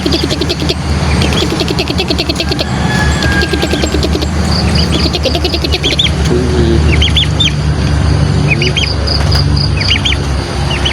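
A flock of large turkeys in an outdoor yard keeps up a busy mix of gobbling and clucking calls, loud and near, with other bird chirps and a steady background rumble.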